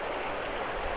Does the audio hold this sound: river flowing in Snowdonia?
yes